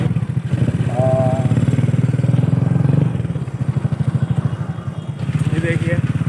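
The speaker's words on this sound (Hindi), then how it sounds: "हम चलाएंगे किड्स बाइक" A kids' mini bike's small engine runs steadily with a rapid pulsing putter, close and fairly loud, alongside outdoor voices talking over it.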